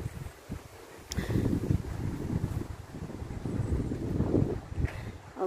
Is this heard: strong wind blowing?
yes